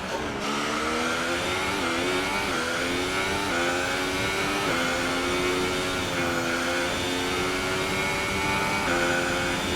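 Formula 1 race car engine in the game F1 2018, a loud sustained high-revving whine that rises and falls through gear changes, close and continuous without any voices.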